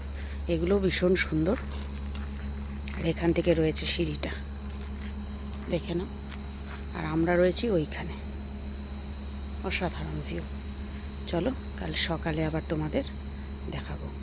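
Crickets at night at Palashgram eco resort in Purulia keep up a continuous high shrill chirring, loud and steady throughout, under a person talking now and then.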